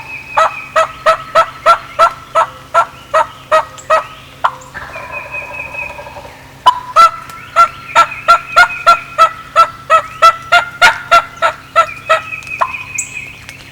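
A wild turkey gobbles over and over in loud, rapid rattling bursts, first a quick sequence, then a short pause, then another long string of gobbles, close by in quiet woods with no one talking.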